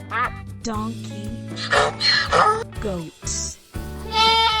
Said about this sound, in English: donkey,